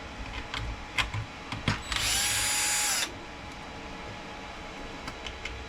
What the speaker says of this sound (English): We're going to take these screws out here, and these here